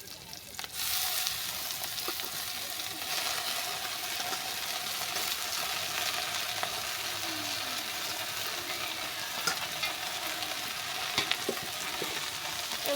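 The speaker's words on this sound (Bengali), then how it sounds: "এবার কুচিয়ে রাখা শাকটা দিয়ে দেবো।" Chopped jute greens drop into hot oil in a frying pan and keep up a steady, close sizzle and crackle that lasts throughout, with no one talking.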